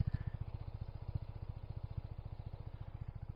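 A Voge SR4 Max scooter engine idles with a fast, even putter, low and steady throughout, close by with no voices.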